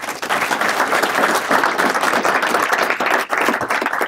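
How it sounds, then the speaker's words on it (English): A room full of people claps at a sheriff's office swearing-in ceremony, a loud, dense and sustained burst of applause with individual claps audible, briefly dipping near the end before swelling again. "a real round of applause for Debbie."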